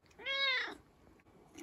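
A talkative tabby cat lets out a single clear, close meow with a rising then falling tone, followed by quiet.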